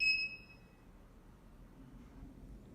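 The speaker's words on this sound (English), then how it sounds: "So we can hear the beep sound" A short, high electronic beep from an 8x8 HDMI matrix switch as it changes source, sounding once at the very start and then fading into quiet room hiss.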